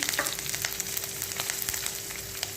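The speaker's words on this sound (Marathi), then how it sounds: "त्यामध्ये जिरा घालायचा आहे, हिरवी मिरची घालायची आहे" Cumin and green chilies sizzle in hot oil in a kadai, a steady close crackle dotted with sharp pops and spits throughout, with no talking.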